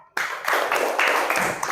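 Students in a classroom clap together in a short, brisk burst of rapid, overlapping hand claps, close and moderately loud, filling the whole moment without talk.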